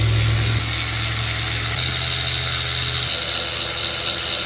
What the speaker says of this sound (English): 8mm and take off the 4 valve cover bolt